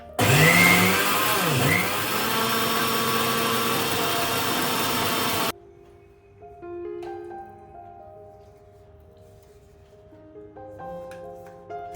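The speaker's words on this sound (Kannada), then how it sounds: "ಇವಾಗ ಇದನ್ನು ಮಿಕ್ಸಿ ಮಾಡ್ಕೊಳ್ತಾ ಇದ್ದೀನಿ" A kitchen mixer grinder whirs loudly as it grinds moong beans soaked for one to two hours. The steady, close roar lasts about five seconds, then cuts off abruptly, leaving a quiet tonal background.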